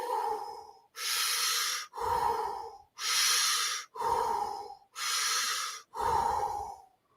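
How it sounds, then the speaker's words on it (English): A slow breathwork demonstration: deep, loud, close breaths in a regular pattern, seven airy inhales and exhales of roughly a second each, separated by brief pauses, no speech. "So you start out with an empty lung, and then you inhale."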